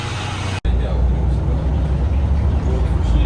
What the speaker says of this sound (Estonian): Nüüd läheme bussi peale.